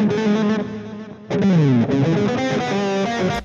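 A looped electric guitar phrase plays through Blue Cat Axiom plug-in presets, heavily distorted with chorus and delay effects, the tone switching abruptly as presets change, loud and alone.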